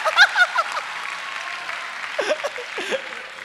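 Audience at a talk show session during a conference clapping, a steady wash of applause with bursts of louder claps and a few voices and laughs breaking through near the end.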